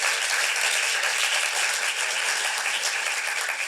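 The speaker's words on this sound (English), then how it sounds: "let's give them a really big round of applause" An audience at a young playwrights' festival applauds the actors after cold readings, dense even clapping sustained throughout at a steady level.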